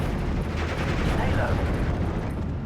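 A German Pak 38 anti-tank gun firing at Tetrarch light tanks in the video game Steel Division: Normandy 44, a loud rumbling blast with a rolling, eruptive tail, heard alongside a speaking voice.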